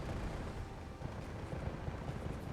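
Anti-air launcher rockets exploding in Fallout 4, a dense rolling cluster of muffled booms and rumbling blasts, continuous and fairly quiet.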